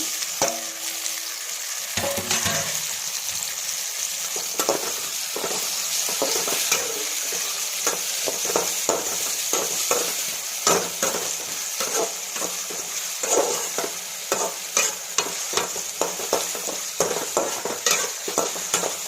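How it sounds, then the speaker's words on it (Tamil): Tomato, garlic and onion sauté in a pan for a tamarind puli kuzhambu, a steady broad sizzle broken by frequent scraping stirs of a spoon against the pan, close and continuous with no talking. "இதெல்லாம் போட்டு வதக்கிட்டு லைட்டாக வதங்கினா போதும்."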